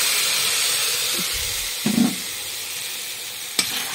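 Ground spice paste with a little turmeric hits hot oil with whole cardamom, cloves and cinnamon in the pan, giving a steady loud sizzle and hiss with a couple of brief stirring clatters, no voices.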